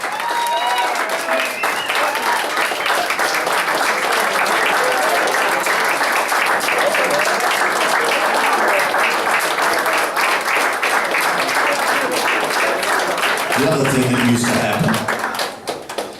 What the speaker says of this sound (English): give them as much applause as you can